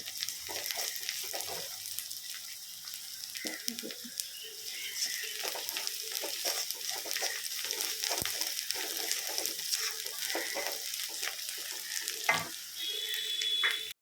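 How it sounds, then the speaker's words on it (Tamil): Onions sauté in a pan with rock salt for Tamil home-style prawn thokku, a steady close sizzle and crackle with occasional stirring scrapes, continuous for the whole stretch. "வெங்காயம் நல்லா வதங்கிட்டு இருக்கு"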